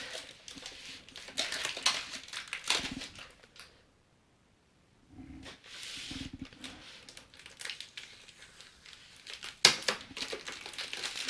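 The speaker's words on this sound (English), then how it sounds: "Okay, finally got it out of that bubble wrapping there." Teclast X16 Pro tablet being unwrapped from bubble wrap, with bursts of crinkling and rustling plastic separated by brief pauses and one near-silent gap, close and moderately loud.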